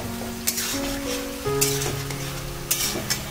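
Fried cauliflower pieces tumble into a hot pan of spices for a Bengali fish curry and are stirred, giving a steady loud sizzle broken by a few sharp clatters and scrapes of the spoon, with no talking.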